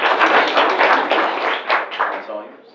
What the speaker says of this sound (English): let's have a warm round of applause for Angela and Director of Veterans